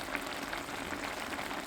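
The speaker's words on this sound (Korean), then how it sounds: "끓는 소리부터 끝내주죠." Steady bubbling and sizzling of spicy Korean tofu stew (dubu duruchigi) with chili peppers and scallions simmering in a pan, a continuous close hiss dotted with small pops.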